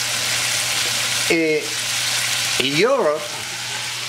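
Bacon frying in a pan, a steady close crackling sizzle heard under two short bursts of a voice.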